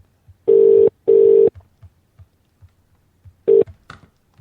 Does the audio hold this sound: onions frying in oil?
no